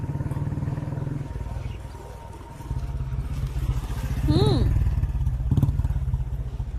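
A motorcycle idles and revs in a Hindi film scene, a steady engine rumble that swells toward the end, with dialogue and a brief whistle-like tone over it.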